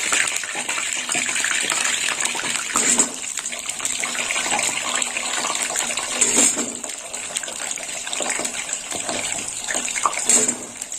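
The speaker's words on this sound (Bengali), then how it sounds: "আলুটা ভেজে নেবো এই তেলে।" Potatoes frying in hot oil, giving a dense, continuous hiss and bubbling sizzle that stays loud and steady throughout, with a few brief clinks.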